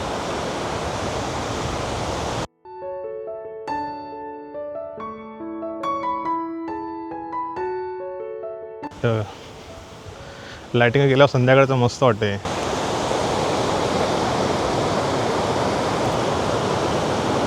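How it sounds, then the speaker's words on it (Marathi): Rough sea surf pounds a beach after recent rain and wind, a steady broad roar that fills the opening seconds and returns strongly at the end, with a melodic tune and people talking in between. "समुद्र खवळला आहे बऱ्यापैकी लाटा खूप येतात"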